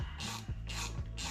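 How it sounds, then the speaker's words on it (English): Rhythmic clicking of a 6mm ratchet turning a nut during a wheel parts swap on a Honda Fury motorcycle, three bursts of close, steady ratcheting strokes with no talking. "ratchet"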